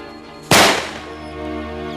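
A single loud firecracker bursts sharply, a sudden close crack that rings and fades over about a second, with no talking.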